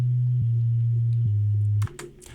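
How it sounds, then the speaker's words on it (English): A simple sine-wave sub bass made in the Serum synth plays a few low, smooth sustained notes that step down in pitch. It ends abruptly with some faint clicking noises afterward. "a simple sub bass made in Serum"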